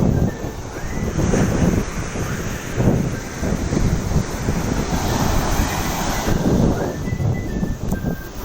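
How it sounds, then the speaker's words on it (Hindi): Ocean waves surge and break on the shore near Madhopur village, a steady broadband wash with swelling peaks and no voices, fairly close and continuous. "देखिए किस प्रकार से समुद्र की लहरें आ रही हैं"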